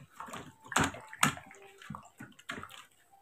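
Water sloshing inside a condom filled with one liter of water, a series of wet, bouncing slaps and splashes in uneven bursts, close and fairly quiet, with no talking.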